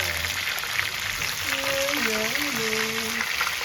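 Catfish for pecel lele fries in hot oil in a wok, a steady loud sizzle throughout, with a voice talking briefly over it partway through.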